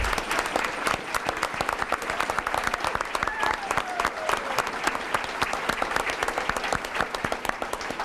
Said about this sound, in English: Let's give a round of applause for our Ridge team.